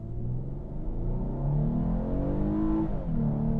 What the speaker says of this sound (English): sport mode, we don't have launch control, but we will just hit the gas